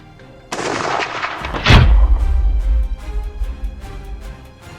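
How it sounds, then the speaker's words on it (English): A single loud gunshot from hunters shooting a wild boar on a mountain hunt, a sharp close blast followed by a deep rumbling echo that slowly fades over several seconds, with no talk. "A loud gunshot echoed, and the boar was immediately taken down."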